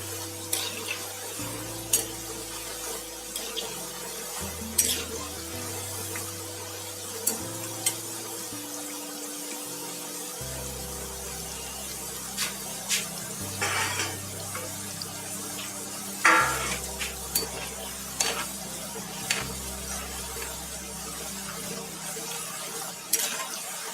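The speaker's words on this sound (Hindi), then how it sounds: "इसको ऐसे हिलाते हिलाते हमने सुनहरे कलर की होने तक तलना है।" Namak pare (nimki) dough pieces deep-frying in hot oil while being stirred toward golden, a steady broad sizzle with occasional clinks and scrapes of the stirring utensil, a faint low tonal hum beneath, no voices.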